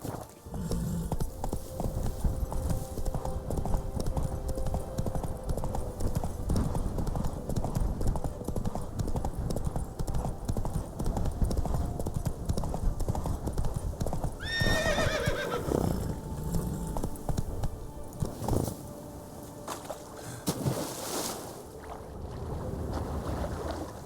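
Roach the horse gallops in The Witcher 3: Wild Hunt, a quick rhythmic clip-clop of hooves running under game ambience, with a brief whinny in the middle.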